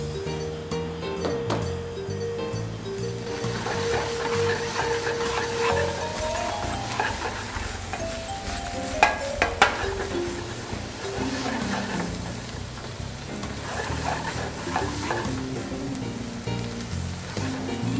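Garlic and cherry tomatoes sizzle in a pan, a continuous crackling hiss under a soft melodic background with a few sharper clicks of stirring midway.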